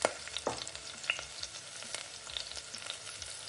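Cashew chicken with fried cashews sizzling hard in a pan over high flame, a dense steady crackle and hiss of frying with scattered pops and stirring scrapes, close up with no talk.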